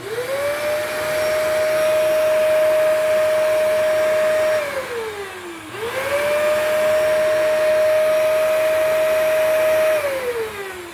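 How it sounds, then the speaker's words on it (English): A commercial vacuum cleaner powers up twice in a row, each time rising to a loud steady whine with a strong tonal hum, holding for several seconds, then winding down before restarting, with no talking. "let's go ahead and do a full run-up of a vacuum first"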